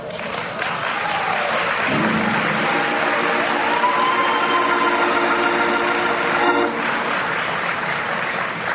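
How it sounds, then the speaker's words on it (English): Sustained applause from an NAACP convention audience after a speech by Mitt Romney, a dense, steady wash of clapping from a large crowd throughout, with faint murmurs beneath. "the crowd respectfully offered a standing ovation to the candidate"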